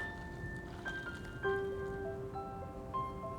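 Water draining off boiled noodles through a kitchen strainer, a soft steady patter and trickle, faint and close, with occasional light clinks and no talk.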